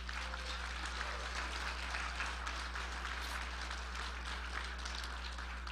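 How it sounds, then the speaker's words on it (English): A hall audience at an evening inaugural event applauds hotel staff, giving a faint, even wash of clapping over a constant low hum. "So a big round of applause for all these Hilton people."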